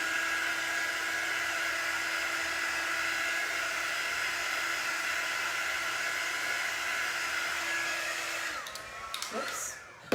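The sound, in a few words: drying a craft piece, likely with a hair dryer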